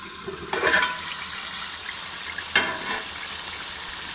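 Chana dal koftas frying in a pan with a little water boiling off, giving a soft steady sizzle broken by two brief louder bursts of spatter or stirring.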